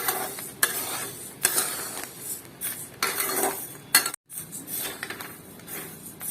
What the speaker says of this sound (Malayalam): ഒരു രണ്ട് മിനിറ്റ് കൊണ്ട് ഇളക്കേണ്ടി വരുള്ളൂ പൊട്ടി തുടങ്ങിയിട്ടുണ്ട് അരി